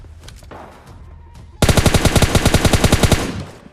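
Rapid automatic gunfire as two bots fight in a shooting game, a loud burst of evenly spaced shots lasting about two seconds after a quieter stretch of faint game noise.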